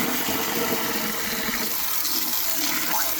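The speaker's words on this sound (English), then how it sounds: "We're going to break it up a little bit with a hose." A hose jets water into a blocked drain where a rod is already down, producing a constant loud, hissing rush of water with no speech.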